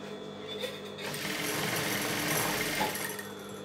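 A sewing machine stitches the folded long edges of fabric for a face mask, its fast, steady mechanical whirr swelling louder after the first second and running continuously nearby.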